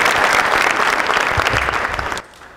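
An audience bursts into loud, dense applause for actors, heard close and steady before it drops away abruptly near the end.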